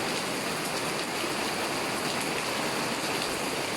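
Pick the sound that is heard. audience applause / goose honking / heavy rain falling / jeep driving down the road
heavy rain falling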